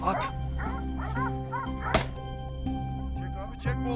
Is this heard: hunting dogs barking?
yes